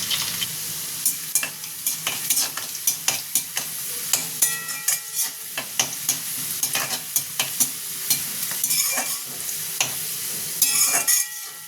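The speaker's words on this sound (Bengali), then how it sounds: "পেঁয়াজটাকে হালকা ভেজে নেব, কড়া করে ভাজবো না, হালকা করে ভেজে নেব" Onions fry lightly in a pan and crackle with a bright sizzle, while a utensil scrapes and taps the pan in frequent, irregular strokes close to the listener. No one speaks.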